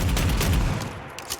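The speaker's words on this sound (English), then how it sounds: "There's my explosion." A frag round from an Armsel Striker shotgun explodes in Fallout 4, a loud dense blast filling the moment with low rumble before trailing off, followed by a small late crack.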